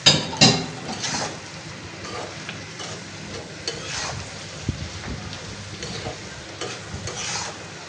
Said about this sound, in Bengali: পানি দেবো না আবার চিংড়ি মাছটা দিই তো ভাজা ভাজা করে পরে টমেটো দিই।